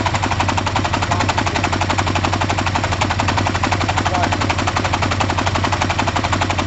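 A Kawasaki ZL600 motorcycle engine idles close by with a steady, fast, rattling pulse that holds loud and unbroken throughout.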